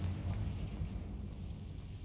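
A Confringo blasting spell explodes in Hogwarts Legacy, a deep, rumbling boom that rolls on for about two seconds at a fairly low level.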